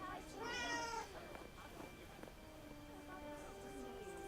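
A cat in the video game Forspoken gives a drawn-out, wavering meow up close, followed by quieter mewing sounds over a soft game soundscape.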